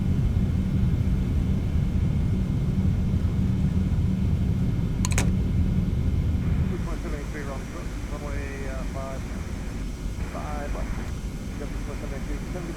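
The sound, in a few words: TFDI 717-200 reverse thrust roar in Prepar3D flight simulator video game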